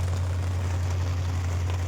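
Rain falls steadily as an even, dense hiss that does not change, heard close with a strong low hum underneath and no voices.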